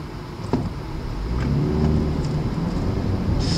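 A 179-horsepower Ford Escape heard from inside the cabin while driving, with a steady engine drone and road noise that swells slightly as it accelerates.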